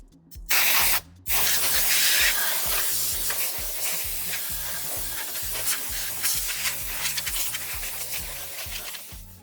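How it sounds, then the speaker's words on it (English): An air compressor blows dust out of an Onkyo receiver. Loud, close hissing air bursts start with two short blasts, then one long continuous blast with a rattling, pulsing low rhythm underneath, and no talk. "let me use my air compressor, I'll get rid of the dust"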